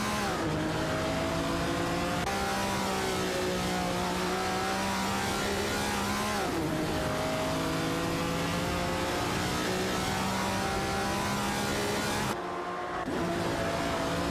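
Race cars including a Chevrolet Corvette C3 and a 1973 Holden Monaro GTS in a racing video game, engines droning loudly and steadily with rising and falling revs, several cars audible together and a brief drop near the end.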